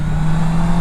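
A 2019 Honda CB 650 R motorcycle engine holds a loud, steady, close droning hum for a brief moment, with no voices over it.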